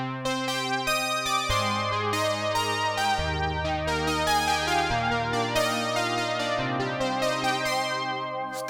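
Dry Roland JX-8P synthesizer playing a sequence of sustained chords with shifting bass notes, clear and close with no reverb tail.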